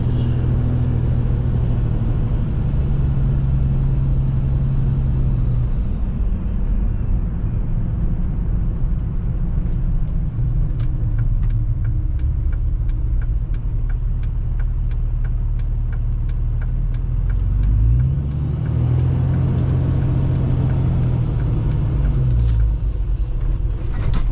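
A vehicle pulls in to a new rural property: a continuous low engine rumble and road noise, with tonal engine notes rising and falling as it slows, shifts and moves over rough ground.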